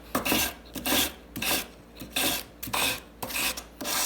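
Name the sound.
sanding an opal ring with 280 grit sandpaper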